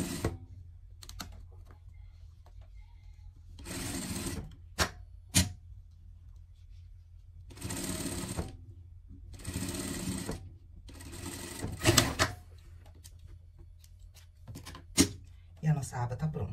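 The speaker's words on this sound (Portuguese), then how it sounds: "passar uma costura de segurança aqui" A sewing machine stitches a safety seam on a pet dress in several short bursts of rapid whirring, separated by pauses with small clicks and handling sounds, close and clear.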